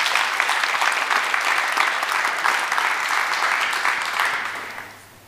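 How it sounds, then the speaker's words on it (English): An audience at a Berlin Buzzwords tech conference claps for a speaker, a dense steady round of applause that tapers off over the last second. "First, let's give Ken a round of applause."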